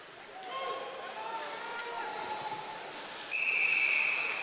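A referee's whistle blows at a Meaford Knights hockey game, a bright, sustained shrill tone rising above arena noise late in the moment, after commentary and crowd murmur.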